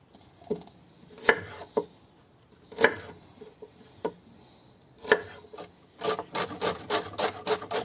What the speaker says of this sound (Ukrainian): Друзі, ріжемо цибульку для фарша.